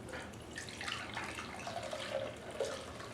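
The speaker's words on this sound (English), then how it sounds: "Uh-oh, spilling the juice." Juice spills and splashes as it is poured out of a Champion 4000 masticating juicer: a steady, fairly quiet trickling stream with small splatters, and no voices.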